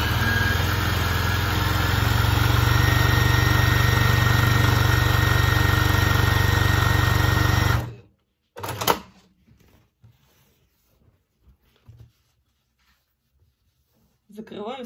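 A sewing machine stitches a straight seam on a patchwork cushion, a loud, steady mechanical whir running for about eight seconds before it cuts off, followed by a few faint handling clicks and rustles.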